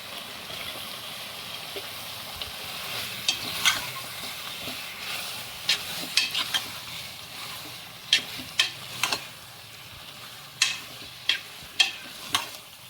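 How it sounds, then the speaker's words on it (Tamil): A kilo of washed chicken sautés in a pan for chicken gravy, with a low steady sizzle and repeated louder scraping strokes of a stirring spoon that come faster toward the end. "சிக்கனை நல்லா வதக்கிட்டு அப்புறம் மிளகாத்தூள்லாம் போட்டுக்குவோம்."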